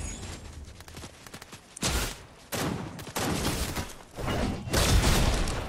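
Video game gunfire cracks out in several loud, close bursts and volleys, separated by short pauses, with no voices over it.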